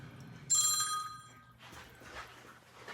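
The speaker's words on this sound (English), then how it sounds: "my other phone is now ringing" A second phone starts ringing indoors with a bright electronic ringtone that sounds briefly over room noise, followed by a softer muffled stretch.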